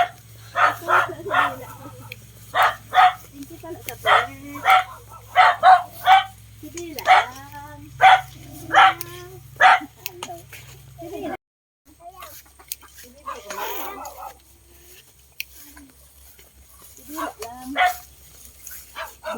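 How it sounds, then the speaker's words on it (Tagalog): Dogs along a rural road bark in a rapid series of loud, close barks, then more scattered barking follows after a pause, with a faint vehicle hum underneath. "dami naming aso na madadaanan."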